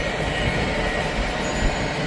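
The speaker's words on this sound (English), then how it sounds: "that last train, the big one, was M561" A freight train rolls past on the railroad, a loud and steady roar of wheels and cars that fills the whole stretch, with a faint high squeal running under it.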